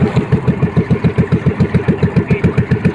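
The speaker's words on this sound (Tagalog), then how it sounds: "Ano nangyari na naman sa makina mo?" A fishing boat's engine runs up close and loud with a fast, even chugging pulse, each beat thumping in a regular rhythm for the whole three seconds, with no talk.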